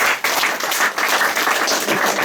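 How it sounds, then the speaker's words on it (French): An audience claps steadily for a volunteer, dense and continuous applause filling the room at a fairly loud level. "On va applaudir notre volontaire."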